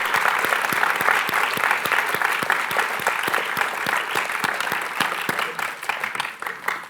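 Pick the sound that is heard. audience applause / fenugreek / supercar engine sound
audience applause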